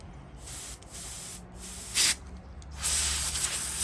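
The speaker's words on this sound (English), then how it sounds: "then you can feel the air coming out, then you know you got it unclogged" Compressed air hisses out through the pressed valve of a spray paint can while a clogged nozzle is cleared, coming in several separate loud bursts of varying length with short quiet gaps between them.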